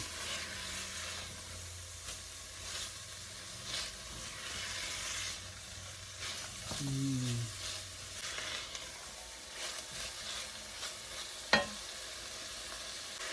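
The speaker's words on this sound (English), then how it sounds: "So that's one medium onion, and I'm just sauteing it around." One medium onion sautés in a pan, giving a steady soft sizzle with occasional scrapes of stirring and a sharp clink near the end, quiet and close with no voices.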